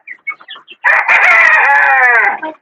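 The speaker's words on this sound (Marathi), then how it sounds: "गावठी कोंबड्या" Desi village chickens at a Shrivardhan poultry farm: a few quick clucks, then a rooster lets out one long, loud, close crow that fades out.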